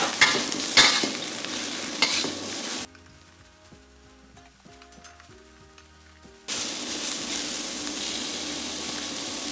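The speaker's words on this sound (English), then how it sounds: "add in the mushrooms and fry them for about a minute" Mushrooms frying in a pan for a salmon stir fry, a loud close sizzle and stirring that drops away for a few seconds in the middle, then returns strongly.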